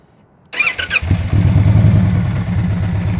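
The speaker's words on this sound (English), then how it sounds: "Start the bike up" A motorcycle engine cranks and catches after a brief silence, then settles into a steady, loud, close rumble.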